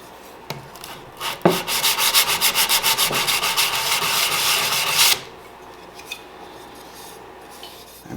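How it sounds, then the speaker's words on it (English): A meat cleaver has the roughed-up edges around its hole sanded by hand, a rapid run of rhythmic rasping strokes close up, bracketed by a few scattered knocks and quiet pauses. "I'm just gonna sand that down a little bit because I roughed up the edges around the hole"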